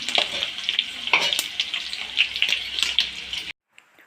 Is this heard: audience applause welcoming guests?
no